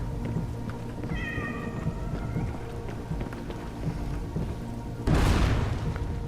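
A cat meows a few times at moderate distance amid a busy outdoor background, followed by a loud deep boom that swells and masks everything near the end.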